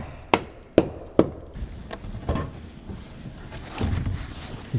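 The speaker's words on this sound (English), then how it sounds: "I just need to hammer it in" Three sharp hammer blows ring out close by as a wooden joist is driven into place, followed by softer knocks and shuffling handling noises.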